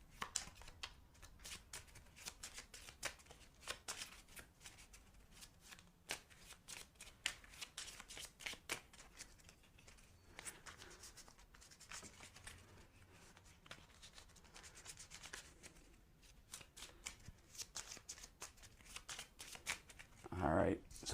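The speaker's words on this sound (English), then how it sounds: "now there's 1 and we have to shuffle our deck" A dense deck of cards for a G.I. Joe deck-building game is shuffled by hand, with steady rapid riffles and rubbing card sounds continuing close by at a low level.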